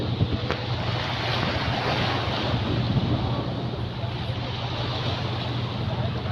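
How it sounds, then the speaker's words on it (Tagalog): Sea waves washing under strong wind, a steady roar of surf with heavy wind buffeting the microphone throughout, ships visible offshore on a cloudy day, with a voice speaking faintly beneath the noise. "Guys, tignan nyo yung dagat."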